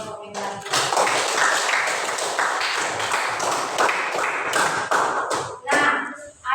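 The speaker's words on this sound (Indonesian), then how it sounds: "Tepuk tangan buat kelompok yang lain." A classroom group claps in quick rhythmic bursts, close and lively, with tapping and thudding, and a voice briefly joins near the end.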